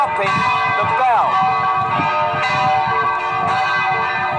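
Bell ringing in an interactive dungeon adventure game, a steady sustained metallic tone with layered overtones, repeated strikes every second or so over rhythmic low pulsing noise.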